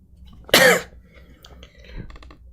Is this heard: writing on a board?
no